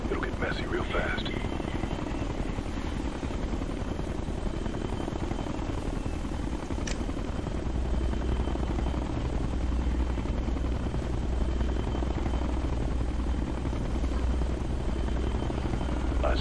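A helicopter in the shooter game Ghost Recon Future Soldier drones with a steady low rotor thrum throughout, moderately loud and unchanging, while a few faint sharper game sounds flicker at the start.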